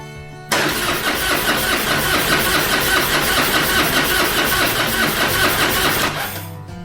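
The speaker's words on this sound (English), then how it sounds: "So I'm going to crank the engine a couple times." Harley-Davidson 1450 Softail motorcycle engine cranking over during an oil change, a loud, dense, continuous churning that kicks in abruptly and runs for about six seconds before cutting off.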